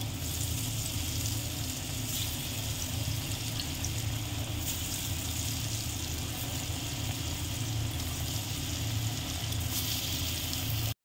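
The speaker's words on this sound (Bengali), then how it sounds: "দেখুন এরকম লাল লাল করে সব ধোকাগুলো ভেজে নেব।" Dhoka lentil cakes fry in hot oil, giving a loud, steady, dense sizzle that runs without break and sits close to the pan, with no voices over it.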